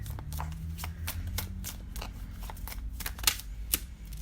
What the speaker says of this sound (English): I think I'm going to shuffle those.